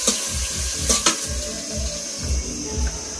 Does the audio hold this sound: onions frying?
yes